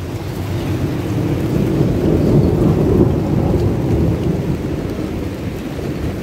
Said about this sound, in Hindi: आपने देखा कैसी बिजली कड़की है